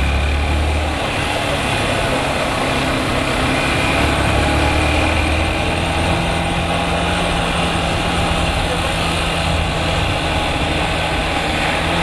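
A continuous motorcycle engine runs steadily and loudly on a flat tire, a buzzing motor drone with road noise and no breaks.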